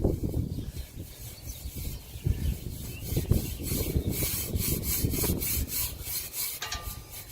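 Steady rubbing and scrubbing on rusty chrome of a 2004 Harley-Davidson Sportster XL1200C, a close, continuous rasping with irregular strokes and no talking.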